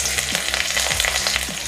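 Chilies fry in hot oil in a kadhai with a dense, steady sizzle and crackle, close and loud over a faint low hum, with no talking.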